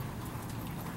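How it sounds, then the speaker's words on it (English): Horse hooves clip-clop quickly at an equestrian show, over a rough, noisy background, faint and brief. "So the big gray horse is on deck, please."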